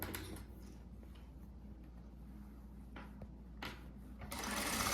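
A sewing machine runs steadily while stitching around the curve of a blouse, a low continuous mechanical hum with faint ticking and a few sharp clicks, close and alone.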